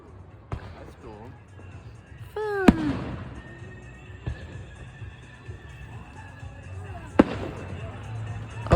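Fireworks at a Fourth of July show in Harrison, Idaho, give several sharp, loud booms spaced a few seconds apart, with crackle between them and people talking and reacting nearby.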